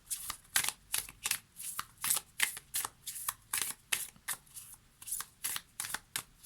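Oracle cards from the Envolée sauvage deck are shuffled for a reading in quick, even riffling bursts, about three per second, close and crisp against a quiet background with no talking.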